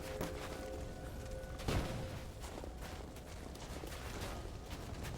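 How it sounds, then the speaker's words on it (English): Explosion debris and shrapnel in the video game Rise of the Tomb Raider, heard as a dense, noisy rumble with a sharp burst of crackling impacts near the two-second mark, amid continuous game ambience. "That's just the explosion shrapnel."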